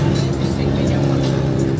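Cars passing along a city street in the United States, a loud, continuous traffic roar and engine hum close by, with people talking over it.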